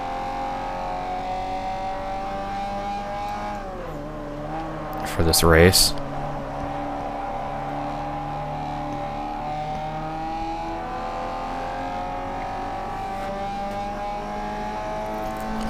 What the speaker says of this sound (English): This engine sounds a lot different with these upgrades.